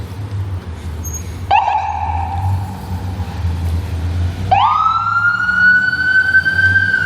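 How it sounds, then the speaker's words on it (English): A fire truck siren in San Diego starts up and winds upward, wailing loudly over a steady low engine rumble, then sweeps up again after a brief dip. "Oh, lights and siren. Lights are on, there they go."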